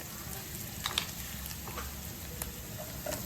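Browned onions and chopped green onion tops fry in a pan for vagharelo rotlo, giving off a soft, steady sizzle with a few faint pops and clicks throughout.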